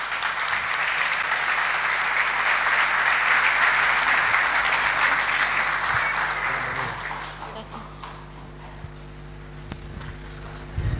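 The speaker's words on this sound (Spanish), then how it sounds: "Un aplauso para la hermana, muy bien" A church audience breaks into full applause that rolls on steadily for several seconds, then fades out, leaving a quiet hum of the room with occasional low voices and shuffling.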